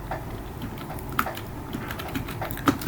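Light clicking keystrokes on a computer keyboard while writing Go code, coming in irregular short runs with a few sharper taps, fairly close and soft under a faint room hiss.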